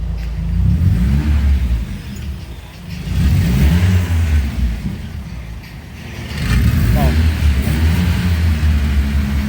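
The engine of a rebuilt 240SX drift car revs loudly in repeated surges, rising and falling in waves, close by with no voices.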